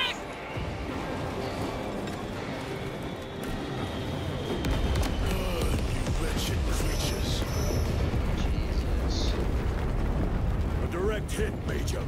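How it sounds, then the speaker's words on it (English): Heavy airstrike explosions in the Warhammer game Space Marine, a long rolling series of loud booms and rumbling blasts building over several seconds amid combat noise, with voices speaking over it. "Airstrike incoming!"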